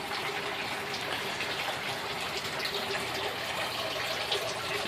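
Water from aquaponic grow beds drains through a central tube into a sump in a backyard system with towers, a steady, continuous gushing and trickling wash that holds at even loudness throughout.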